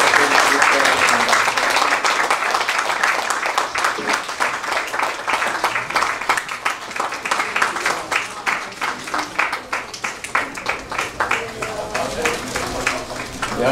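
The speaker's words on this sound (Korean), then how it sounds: "우리 다시 한번 박수로 축복해 주시길 바랍니다." Audience applause fills a graduation ceremony and degree conferral service, a steady dense clapping that carries through the whole stretch, loud and continuous, with a voice speaking over it at the start.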